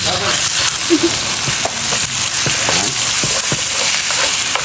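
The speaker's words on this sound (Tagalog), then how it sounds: "Ilagay na natin dito sa may bawang sibuyas. So pakagisa lang muna natin to." Garlic and onion sautéing in a pan, a loud, constant sizzle and crackle close by, with occasional clinks and scrapes of stirring throughout.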